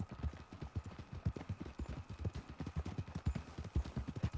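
Steady clip-clop of horse hooves at a walking pace in the video game Red Dead Redemption 2, quiet and rhythmic, with no talking.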